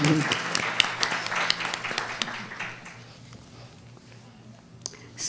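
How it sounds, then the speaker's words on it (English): Scattered clapping from a modest audience at a spiritual talk, fairly faint with distinct individual claps that thin out and fade midway, and voice sounds mixed in at the start. "Another round of applause for Swarnamayi."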